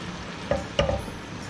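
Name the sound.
ginger garlic frying in hot oil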